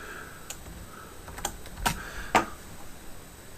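A few scattered computer keyboard key presses, sharp light clicks spaced irregularly against a quiet background.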